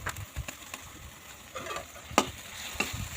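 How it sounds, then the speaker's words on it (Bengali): Ground spices (chilli, turmeric, garam masala) sizzling in a pan with a splash of water, under intermittent scraping stirs and soft clinks of the spoon, close and fairly quiet. "একটু জল দিয়ে ভালো করে মশলাটা কষিয়ে নেব।"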